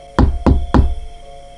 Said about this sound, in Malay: tiba-tiba dia terdengar ketukan pintu